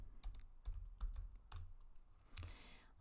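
Quick bursts of typing on a computer keyboard, a few close, crisp key clicks in short runs with brief pauses between them while a search term is entered.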